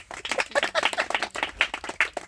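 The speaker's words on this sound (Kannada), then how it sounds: "ಚಪ್ಪಾಳೆ." An audience claps together at a Kannada talk about jackfruit trees, a dense run of many hand claps with a rippling rhythm, fairly close and with no speech over it.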